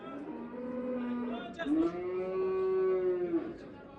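An old cow at a livestock market lowing in long drawn-out moos, loud and close, with faint market chatter behind.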